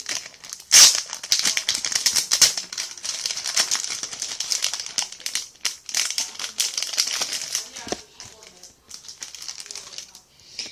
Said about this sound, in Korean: 그리고 푸딩 롤드 뜯어볼게요.